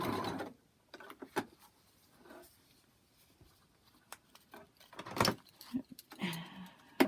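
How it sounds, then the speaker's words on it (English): A sewing machine stitches a foundation-paper-pieced butterfly charm quilt block, running in short, uneven bursts with pauses and small handling clicks between them, fairly quiet throughout. "Continue sewing off."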